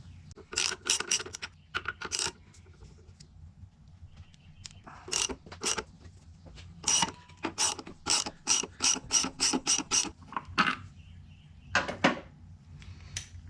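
A ratchet wrench clicks in quick bursts while backing out 18 mm engine mount bolts on a Grand Am, the rapid pawl ticks coming in several close, loud runs separated by short pauses.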